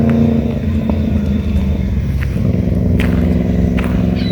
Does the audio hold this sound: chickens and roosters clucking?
no